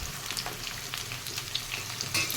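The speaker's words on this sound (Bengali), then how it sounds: "আলুগুলো একটু ভাজা হয়ে গেছে, এবার সবজিগুলো দেবো।" Potatoes and vegetables fry in a pan with a close, steady sizzle and crackle, punctuated by a few sharp spatters and stirring clinks, with no talking.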